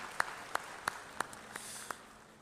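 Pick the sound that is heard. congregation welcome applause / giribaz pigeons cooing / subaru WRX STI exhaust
congregation welcome applause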